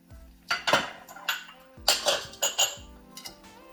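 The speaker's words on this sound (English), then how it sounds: "So just give that a bit of a stir and let that just cook for about a good half an hour" Onions and brown sugar in a pan, stirred with a metal utensil: a series of sharp scraping clinks and knocks against the pan in irregular bursts, close and clear, with quiet moments between strokes.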